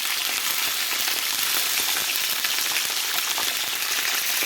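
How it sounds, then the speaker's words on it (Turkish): Hollowed-out stuffing peppers fry lightly in a little vegetable oil, giving a steady, close crackling sizzle throughout with no voices. "Ondan sonra da böyle birazcık sıvı yağda hafiften bir kızartıyorum"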